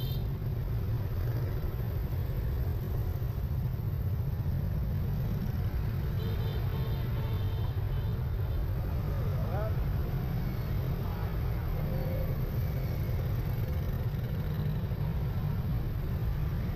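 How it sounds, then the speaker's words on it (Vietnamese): Steady rumble of heavy evening traffic on Phan Dinh Phung street near the Bien Hung night market square, with engines droning continuously and faint voices in the background. "Đường vào buổi chiều thì rất là đông xe cộ đi lại."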